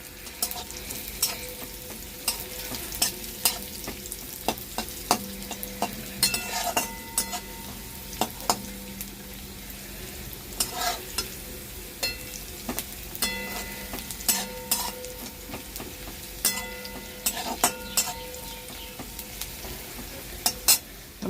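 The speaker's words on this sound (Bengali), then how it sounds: "এটা একদম সাদা সাদা করে ভাজবো।" Pieces for a boal fish mustard curry fry gently in oil in a pan, a soft continuous sizzle broken by repeated scraping and stirring taps of a utensil against the pan.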